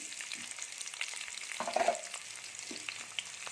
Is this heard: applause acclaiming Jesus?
no